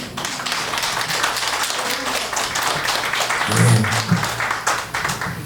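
Applause from the audience at a disabled persons' choir festival ceremony in Incheon, dense rapid clapping held steady for several seconds with a low hum underneath and a brief swell near the middle.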